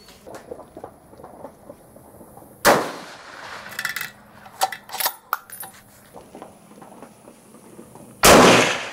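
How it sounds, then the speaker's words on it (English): Two loud unsuppressed .308 rifle shots crack out several seconds apart, each a sharp blast, with quieter clicks and handling noises of the rifle between them. "Next, we're going to fire the 308 unsuppressed and find out what comes out of that."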